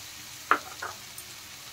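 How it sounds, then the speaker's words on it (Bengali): Grated paneer drops into sizzling masala in a pan for paneer bhurji, a sharp hiss at the moment it lands, then a softer second sizzle and a faint tail, with no talk. "এখন আমি এর মধ্যে গ্রেট করা পনির দিয়ে দিলাম"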